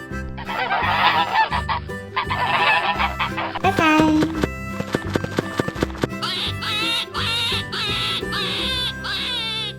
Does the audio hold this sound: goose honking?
yes